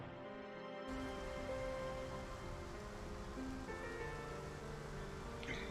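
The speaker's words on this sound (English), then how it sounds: "Oh, it looks like rain." Steady rain falls in the video game Trauma Center: Second Opinion, a continuous hiss of drops on surfaces that starts abruptly and carries on at an even, moderate level with faint tonal sounds beneath it.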